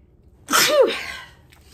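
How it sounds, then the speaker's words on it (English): A single sharp sneeze bursts out close up, followed by a brief trailing breath and quiet. "I'm going to sneeze."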